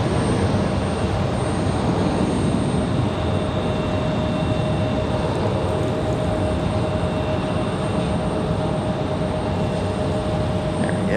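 An American Airlines Airbus A319 moving at Raleigh-Durham International Airport, giving a steady, loud broadband jet roar with a faint high whine. It holds constant and alone for the whole stretch.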